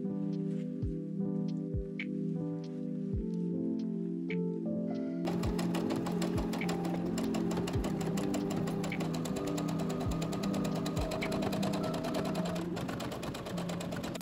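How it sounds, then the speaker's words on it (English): Sewing machine stitching along the top and bottom edges of a folded waistband for an apron dress, starting with soft clicks and then running in a steady continuous whir close by, alone over background music. "fold the entire waistband in half, and then sew it along both the bottom and top edge"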